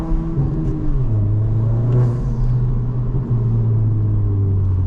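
A 2022 Honda Civic Si engine with a Ktuner V2 drones steadily at close range, a low continuous rumble with a brief rise in pitch as it accelerates, with no voices.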